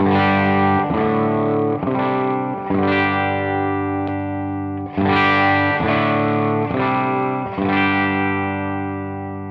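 A humbucker-equipped electric guitar strums a series of distorted chords through an effects pedal, each ringing out with a thick, chorused sustain.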